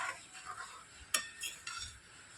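A spoon stirs puffed rice in a bowl, making light scraping rustles and a few sharp clinks against the side, quiet and close with nothing else in the background.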